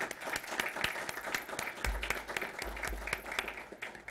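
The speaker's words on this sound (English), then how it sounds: "I think it would be appropriate to give our Gallatin Fire Department participants a round of applause." Applause in a city council meeting room for Gallatin Fire Department participants, fairly faint and steady clapping from a seated audience with individual claps standing out, and a low rumble underneath.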